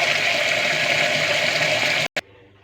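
A kitchen tap runs steadily for hand washing, a close, continuous rush of water that cuts off abruptly, followed by a brief splash and then faint room quiet.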